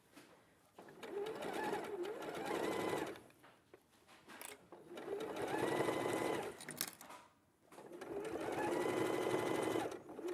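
A sewing machine stitches quilt binding with a quarter-inch seam in three long steady runs separated by brief pauses, loud and close, with faint voices in between.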